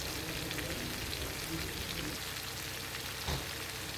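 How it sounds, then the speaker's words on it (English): Chicken pieces frying in hot oil for tandoori chicken, a steady dense sizzle and crackle running continuously at even loudness throughout. "You have to fry until it's getting well fried."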